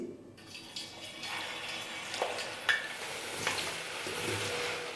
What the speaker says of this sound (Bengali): তেলটা দেখুন এতক্ষণে ভালোভাবে গরম হয়ে গেছে, তাই এখানে আমি আলুগুলোকে দিয়ে দিচ্ছি